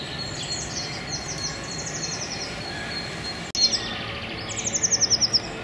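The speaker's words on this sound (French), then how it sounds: "Dérangé seulement par le piaillement des oiseaux" Small birds chirp and twitter in a park in the Faubourg Saint-Marceau quarter of Orléans, with quick descending trills repeating over steady outdoor background noise, moderately near with no voices.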